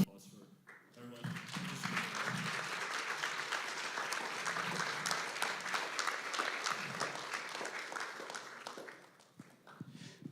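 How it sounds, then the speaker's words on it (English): Sustained audience applause at a tech summit demo lab, steady clapping from a crowd lasting several seconds before fading, with a few voices mixed in. "So I'd like to have a round of applause for everyone"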